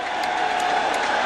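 Football stadium crowd at a 1997 Texas vs. Texas A&M college game, a broad, sustained roar of cheering and clapping from a large audience, steady and dense.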